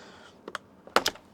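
Buttons with MX Silver switches on a Victrix Pro KO fight controller click in a quick, close series of light taps, a few spaced presses followed by a tighter burst, with no talk.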